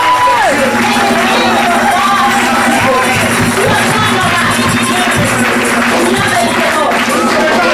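A church congregation cheers and acclaims a pastor at a birthday and appreciation service, a loud continuous mass of voices with whoops and shouts, a sustained tone running through it and scattered taps underneath.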